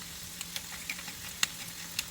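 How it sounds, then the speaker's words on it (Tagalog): Minced beef sautéing in a pan for chow mein gives a steady soft sizzle with scattered small pops and crackles, moderately quiet and without speech. "So, ipagpatuloy lang po ang paggisa."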